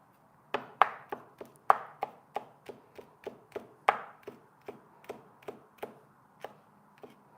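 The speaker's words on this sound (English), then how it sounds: "So I'm going to slice it and then mince it." Knife chopping through a hot chili pepper on a cutting board, a steady run of about twenty crisp close taps with a few harder strikes, alone without talk.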